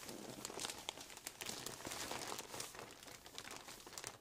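Paper crinkles and rustles in quick irregular bursts as a parcel is carefully unwrapped, soft and close with faint tearing sounds and no talk.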